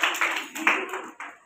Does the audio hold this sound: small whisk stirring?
no